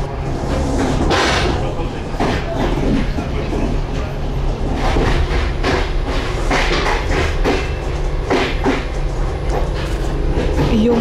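Steady rumble of a passenger train in motion, heard from inside a sleeper carriage, with rhythmic clacking of wheels on rail joints and a continuous loud hum throughout.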